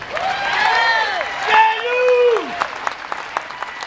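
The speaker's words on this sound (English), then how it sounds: "So give him a warm round of applause." A rally crowd at a fair tax tea party event in Orlando breaks into applause for a speaker, a burst of clapping that rises and thins out as a voice talks over it.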